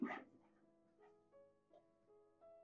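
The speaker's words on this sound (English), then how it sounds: "there goes my dogs, pardon me while they do their thing." Dogs bark and yip indoors, one sharp loud bark followed by several fainter whimpering yelps spread over a few seconds, with no talking.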